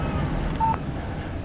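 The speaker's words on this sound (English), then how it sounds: "Text message from Barry." A short electronic text-message alert chimes once on a phone in Alan Wake Remastered, a single clear tone over a low, steady ambient hum.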